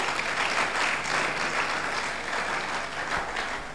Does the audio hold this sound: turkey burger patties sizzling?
no